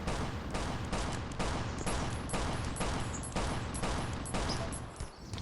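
Rapid pistol shots crack in a survival shooter game, Last Island of Survival, a fast regular string of close, sharp bangs, about two per second, running steadily before trailing off.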